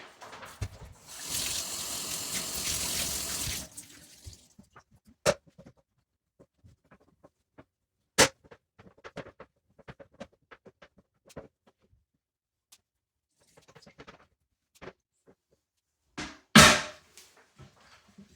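A cleaning cloth is rinsed in bathtub water: a few seconds of splashing and running water, then scattered soft drips, knocks and wet handling sounds, with one louder splash near the end.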